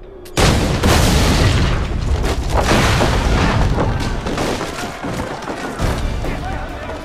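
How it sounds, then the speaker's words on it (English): Black powder barrels explode in the Assassin's Creed 3 video game: a loud, close boom bursts in after a brief quiet moment, then heavy rumbling, crackling and debris-like clatter carry on for several seconds without letting up. "it also gave us an opportunity to include some historical exploding barrels"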